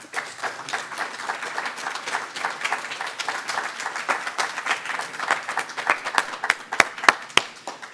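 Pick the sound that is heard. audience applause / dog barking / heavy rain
audience applause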